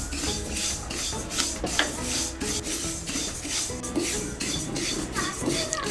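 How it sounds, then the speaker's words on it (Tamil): White sesame seeds dry-roasting in a pan over a low flame, stirred as they toast. A continuous raspy rustle and scraping of seeds against the pan runs throughout with soft rhythmic strokes, and no voices. "அடுப்பை வந்து லோ ஃப்ளேம்லேயே வச்சு வறுத்துக்கோங்க."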